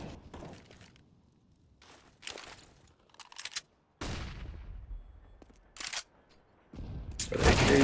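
AK rifles and SMGs trading fire in a competitive first-person shooter match, with scattered bursts and single shots in short clusters, some distant and faint, others louder and closer, and a heavy sustained burst near the end.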